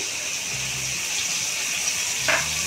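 A little water poured into a simmering parshe fish curry, a short, steady gushing pour close by with a brief splash near the end, moderately quiet, with no voices.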